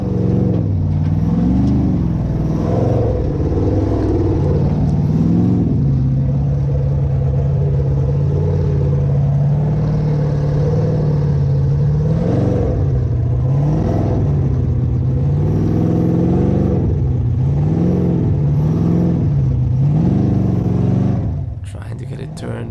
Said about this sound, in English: Let's see how the track looks from the driver's perspective and enjoy the sounds of Formula Offroad.